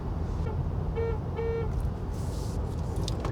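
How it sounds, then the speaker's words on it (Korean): Horn of a Kia Soul Booster car, two short tonal honks in quick succession, fairly faint over steady cabin and road rumble. "경적 소리가 좀 그러네요"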